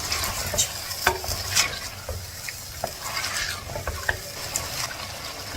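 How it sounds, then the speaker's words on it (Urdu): Beef chunks frying and being stirred in a pot, a continuous crackling sizzle broken by repeated scraping and clinking stirring strokes throughout, close and fairly loud with no speech. "اب ہم نے اس کو بھوننا ہے یہاں تک کہ اس کا کلر چینج ہو جائے۔"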